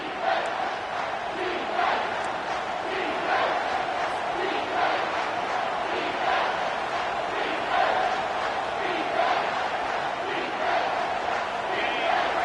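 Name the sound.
stadium crowd roaring at a college football game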